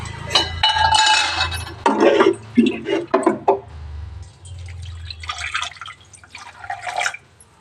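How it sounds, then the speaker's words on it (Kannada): Water is poured into a metal pot holding soaking food, with splashing and dripping plus a few clinks of utensils against the pot, close by, while someone talks over it. "ನಾನು ಸ್ವಲ್ಪ ನೀರು ಹಾಕ್ತೀನಿ."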